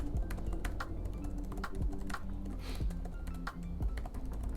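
Steady typing on an Apple Magic Keyboard for iPad, a run of close, crisp key taps in an uneven rhythm with no talking.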